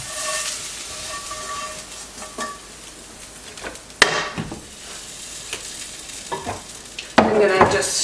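Vegetables browning in butter in a home pan sizzle steadily, broken by stirring scrapes and a couple of sharper knocks of utensil against the pan, with no talking.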